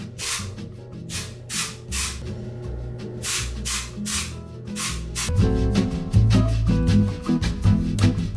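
Living Proof dry shampoo sprays onto hair in a series of short, loud hissing bursts from an aerosol can, evenly spaced at first, then thickening into a denser, rougher spray with faint rustling.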